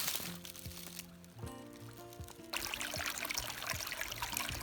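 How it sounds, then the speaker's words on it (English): A brook's water trickles and gurgles steadily over stones, a continuous babbling flow up close with a faint musical tone in the background. "We have found a babbling brook."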